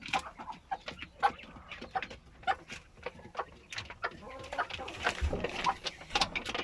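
A Swedish hen clucks in a coop alongside quails, a close series of short, uneven clucks and chirpy calls with irregular pauses.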